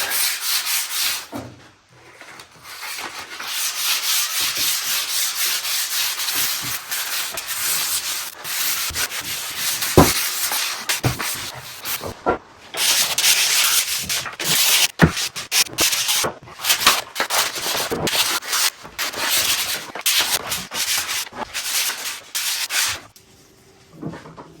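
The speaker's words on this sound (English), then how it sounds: "So this is 400 grit, and just taking off the" Fine 400-grit sandpaper is worked by hand over a vintage 1950s dark oak refectory table. Close, continuous rhythmic rubbing strokes continue with short pauses, and no voices are heard.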